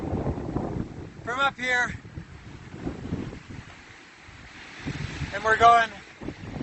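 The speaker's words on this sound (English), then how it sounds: "God, this wind is brutal today." Strong gusting wind buffets the microphone on a mountain saddle of Ajusco volcano near Mexico City, roaring in loud surges that rise and fall under a man's speech.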